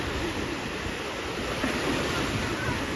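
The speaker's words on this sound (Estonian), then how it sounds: "Igal juhul mega suured lained on siin." Big waves roll onto a Lake Peipsi beach, a steady broadband surf roar mixed with wind buffeting the microphone, continuous and close, with no talk.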